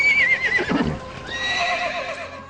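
A horse whinnies loudly up close, a shrill rising-and-falling neigh that trails off with fluttering snorts, heard alone over faint background sound.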